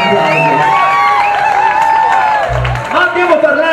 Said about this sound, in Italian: fatemi un applauso.